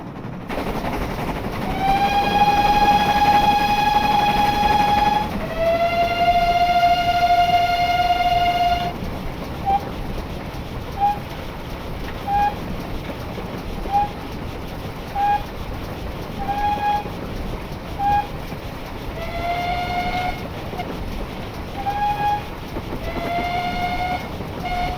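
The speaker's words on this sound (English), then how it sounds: "So I gave you a short demonstration of the whistles" Steam whistles of a GWR 56xx locomotive in Train Simulator Classic: two long sustained blasts, then a run of short regular toots, loud and close over a steady rumbling engine background.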